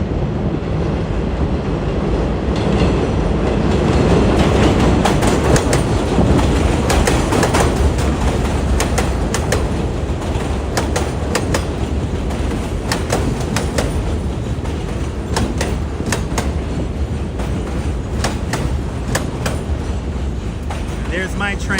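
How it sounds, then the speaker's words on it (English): New York City subway W train arriving at a station in Queens, a loud continuous rumble with rattling wheel clatter and screeching that stays steady throughout, with a voice talking over it. "This is a W train."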